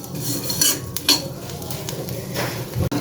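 Dried chapila fish (shutki) frying in a pan, with close clinks and scrapes of a utensil stirring against the metal over a soft sizzle, steady throughout without any talk.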